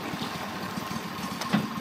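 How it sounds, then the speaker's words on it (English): A Sea-Doo boat engine idles nearby at a lake boat ramp with a steady low throbbing rumble, briefly louder near the end. "sea-doo boat is out."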